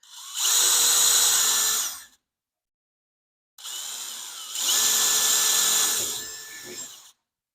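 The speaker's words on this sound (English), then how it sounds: "I hate drilling holes." A power drill bores holes during a Zenith CH 750 Cruzer aircraft wing build, running in two loud bursts of steady whine, the second longer and pitch-shifting as the bit cuts through.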